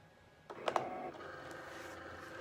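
A vinyl cutting machine pulls in a sheet of heat transfer vinyl with a short motor whir and a couple of quick mechanical clicks, then hums quietly as the feed settles.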